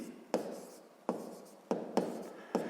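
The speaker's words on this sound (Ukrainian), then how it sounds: "Так і запишемо Сергій" Pen strokes write down a math problem on paper in short, close, distinct scratchy bursts with gaps between them, alone and fairly quiet.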